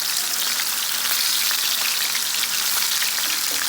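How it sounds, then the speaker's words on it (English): Chicken fries in a cast iron skillet with a dense, loud, continuous sizzle and crackle, steady throughout with no voices. "I'm going to go ahead and fry these babies"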